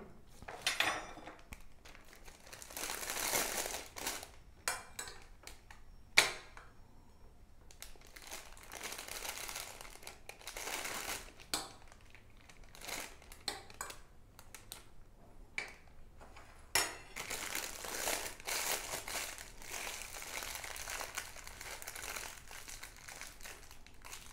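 Plastic crinkles and rustles in irregular bursts as avocado flesh is packed into a plastic bag in a home kitchen, with occasional faint clinks between the louder crumpling, close and alone without speech.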